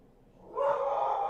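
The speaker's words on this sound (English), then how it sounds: "My dog's going crazy." A dog gives one drawn-out, howling bark that swells from near silence and holds briefly, loud and close.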